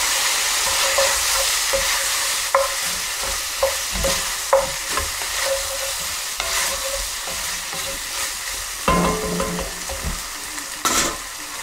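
Beef pieces dusted with flour browning in a pan for boeuf bourguignon, a steady sizzle and crackle with repeated knocks and scrapes of stirring, close by with no talking.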